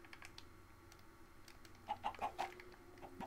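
Minecraft chickens cluck in a short burst of several quick, soft calls over a quiet background with faint clicking, heard near but at low volume.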